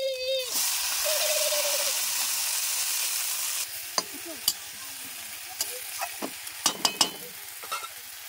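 Washed chopped greens drop into a pan of frying onion, garlic and shrimp, a loud sizzle that fades to quieter crackling with sharp clinks of a utensil against the pan.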